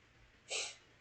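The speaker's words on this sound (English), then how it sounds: "I keep sneezing." A single short, sharp sneeze bursts out near the middle, with quiet room tone around it.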